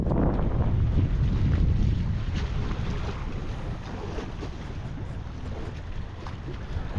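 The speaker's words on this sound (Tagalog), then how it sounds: "Kabisig yun ang ating bangka" A large fiberglass fishing boat rides on the open sea, its engine and hull noise a low rumbling wash mixed with wind buffeting the microphone and water sounds, fairly loud and continuous.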